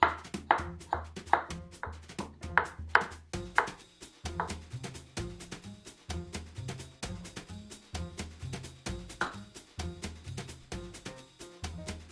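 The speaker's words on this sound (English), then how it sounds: "Cut little strips of the bell pepper." A knife cuts a bell pepper into strips on a cutting board in quick, steady taps, close and clear with no talking.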